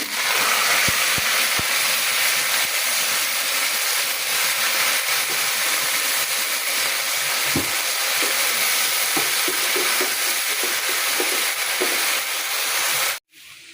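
Jute greens fry with onion and garlic in a pan, giving a loud, steady, close hiss and sizzle with occasional soft stirring scrapes, which cuts off abruptly at the end.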